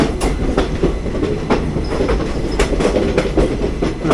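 The 11098 Ernakulam–Pune Poorna Express rolls along the rails near Dudhsagar Falls, a loud, continuous rumble heard close up with periodic clickety-clack wheel beats and brief metallic squeals.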